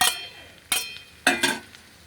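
A spatula stirs fried shrimp and egg into rice in a pan, giving three distinct scraping strokes with brief sizzle, spaced roughly half a second apart, close and clear with no talking.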